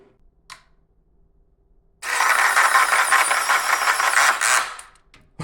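The retract motor on an RC Boeing 747's landing gear whines loudly for about two and a half seconds, a harsh buzzing drone with rattle that strains, binds and cuts out, bracketed by quiet clicks.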